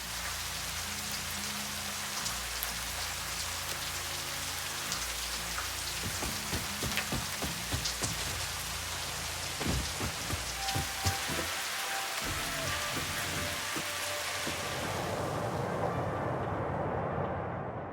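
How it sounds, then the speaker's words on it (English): Steady rain drums on a roof heard from inside a building in the game Satisfactory, a dense continuous patter with scattered louder drips and clanks from nearby machinery, no talk. "I love the sound of rain when you're in an interior."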